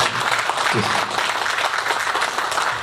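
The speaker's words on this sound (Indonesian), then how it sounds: "Tepuk tangan kita buat untuk pulau" Outdoor crowd applause at an anniversary youth celebration in Batam, a steady, dense burst of many hands clapping for a few seconds without a break.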